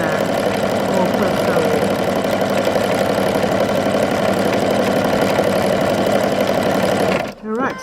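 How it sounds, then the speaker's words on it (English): A Brother Innovis NV1800Q sewing machine stitching at its highest speed makes a loud, fast, continuous mechanical whir and rattle close by, stopping abruptly near the end. "on the highest speed, so it's giving me good stitches and quite a lot of stitches per minute there"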